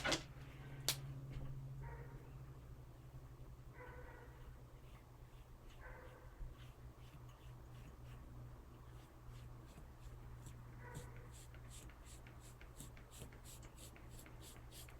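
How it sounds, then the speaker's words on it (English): A washable marker draws a line on fabric in a few short, quiet, scratchy strokes spaced a couple of seconds apart over a low background hum. "So let's draw us a line."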